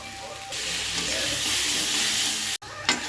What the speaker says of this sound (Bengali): আলু আর পেঁয়াজটা অনেকক্ষণ ভাজা হয়ে গেছে